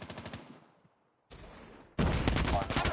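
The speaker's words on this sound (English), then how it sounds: "Look at those explosions just going on." Explosions and bursts of gunfire from a competitive video game match, with loud rapid cracks and blasts after a short lull, rising to a dense, sustained barrage at the end.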